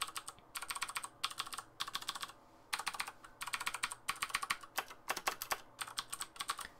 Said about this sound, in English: So the keys are a bit louder, but that is because they're mechanical.